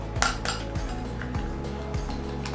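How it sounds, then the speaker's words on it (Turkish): A honey and egg hair mask gets mixed in a bowl, with a spoon or fork knocking and clinking against the sides in quick, irregular taps. "Karıştırıyorum."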